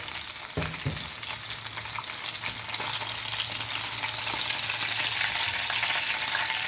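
Eggplant slices frying in oil in a pan next to tilapia, a steady close crackling sizzle with a soft knock of the utensil near the start, no voices.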